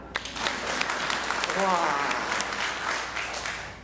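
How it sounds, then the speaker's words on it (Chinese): A church congregation applauds itself during a livestreamed worship service, a few seconds of steady clapping mixed with voices and a brief exclamation. "我们为自己拍手一下。"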